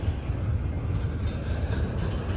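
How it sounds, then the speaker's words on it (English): A Norfolk Southern train standing tied down in Gaffney, giving a steady, dense low rumble and hiss that continues evenly throughout with no break, and no voices. "This train been tied down here in Gaffney about 5 hours"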